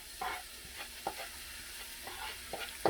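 Onion sizzles softly in a pan with a quiet, steady hiss broken by scattered light pops and scrapes, close by and without talk.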